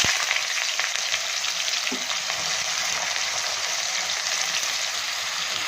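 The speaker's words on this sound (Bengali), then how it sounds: "এরপর আমি পেঁয়াজ কুচি দিয়ে দেবো" Chopped onion frying in a pan for mutton curry, a steady, close sizzle with light stirring that holds evenly throughout.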